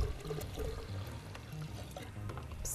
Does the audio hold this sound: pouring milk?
yes